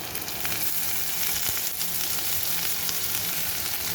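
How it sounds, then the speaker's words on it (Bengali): Garlic frying in a pan for a kochu dish, a continuous close crackling sizzle with light sharp pops and no voices. "রসুনটাকে আগে দিয়ে আমি একটু ভেজে নেব"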